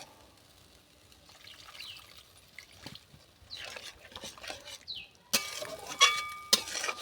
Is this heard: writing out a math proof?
no